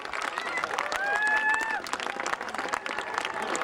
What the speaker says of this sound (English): give them all a huge cheer as they make their way up the finishing straight